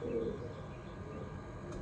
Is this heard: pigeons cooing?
yes